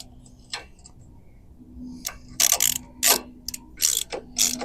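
Close ratchet clicks tighten a MORyde X-Brace stabilizer onto the legs of a fifth wheel trailer, coming in short bursts of rapid pawl clicking that grow louder toward the end, with no talk.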